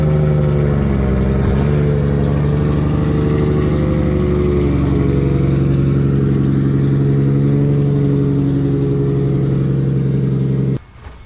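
A Nissan Skyline's engine runs loud and close as the car is driven out of a home garage, a steady rumbling drone that cuts off abruptly near the end.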